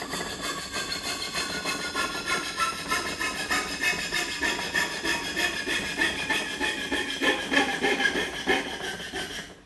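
A coping saw cuts through wooden timber in steady, rhythmic strokes, each pass giving a rasping scrape, close and continuous for nearly ten seconds.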